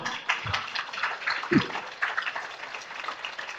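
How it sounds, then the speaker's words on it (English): Light, scattered applause from a small audience at a College Access Summit meeting, a few sparse claps rising and fading, faint and without talk. "And I heard a little bit of applause"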